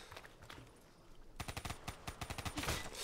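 Rapid gunfire from a weapon in Black Ops 3 Zombies on PC: a quiet lead-in gives way to a burst of fast, evenly spaced shots that grows louder and denser toward the end.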